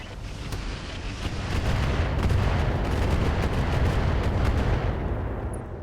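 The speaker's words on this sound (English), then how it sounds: "That was a lot of turret hits there" Steady barrage of weapon fire and rumbling impacts from mech combat in the strategy game RogueTech, a dense run of booming hits and shots that swells and holds, loud with no talk.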